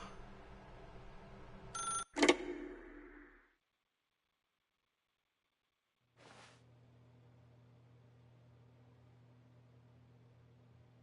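A telephone in The Stanley Parable video game rings once in a short, fairly loud burst, then goes quiet, and a low steady hum follows.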